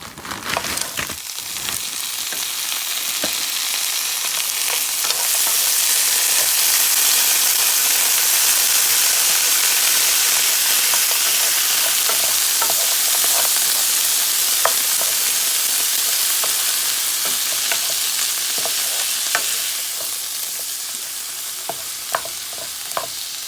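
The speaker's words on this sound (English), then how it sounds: "I'm going to fry them a little. They're going to make a sizzling noise" Frozen mushrooms fry in a pan, sizzling steadily with a loud, continuous hiss dotted with small pops and crackles, with no voices.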